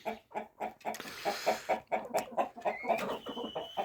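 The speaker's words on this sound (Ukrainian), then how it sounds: "Отут бінтамки, цесар, молоді кури." Chickens, bantams and guinea fowl cluck in a steady, rapid rhythm, several birds close by with overlapping calls and faint background fowl chatter.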